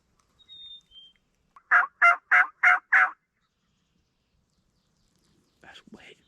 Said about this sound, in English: We just had a bird gobble on the other side of that island.